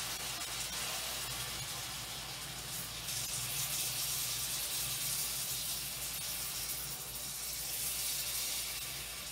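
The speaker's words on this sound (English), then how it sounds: "take some of that water we have left from when we boiled the cabbage head, and we're going to transfer it over to our frying pan" Leftover cabbage cooking water is poured into a frying pan, giving a steady, close hiss and splashing rush that carries on for several seconds with slight swells in loudness.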